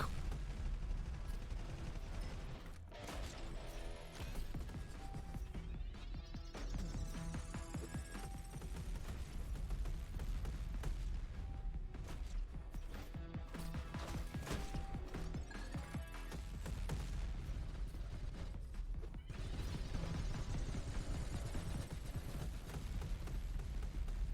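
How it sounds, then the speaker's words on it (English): Gunfire from weapons used as a jetpack in the video game Reaver, a dense, continuous barrage of loud rapid shots and crashing impacts layered with game music and effects, steady throughout with no pauses. "I love the fact that you can use guns as a jetpack."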